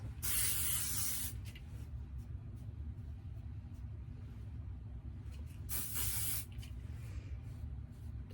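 Hairspray misted onto long hair, two short, bright aerosol bursts near the start and again later, over a constant low rumble of background noise.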